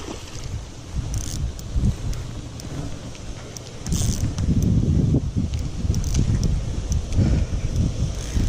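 Steady, loud wind buffets the microphone at a pond during a bass fishing catch, with gusts surging and rumbling throughout and no speech.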